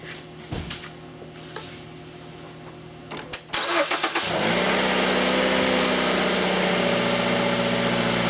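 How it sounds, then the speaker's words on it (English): A Mercury/Ford car with an air pump fault cranks with a few sharp clicks and turns, then catches and settles into a loud, steady idle that runs close by until the end. "So every time you start the car"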